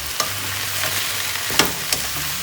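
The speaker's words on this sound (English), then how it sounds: "Give that a good toss." Vegetables seasoned with salt, pepper, red chili flakes and oregano powder sizzle steadily in a pan while being tossed and stirred, with a few soft scraping clacks over the continuous frying hiss.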